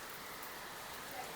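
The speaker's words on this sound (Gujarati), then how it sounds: "જોરદાર વરસાદ પડે છે મિત્રો." Heavy rain pours down in a dense, even hiss, unbroken and fairly close, with no voices.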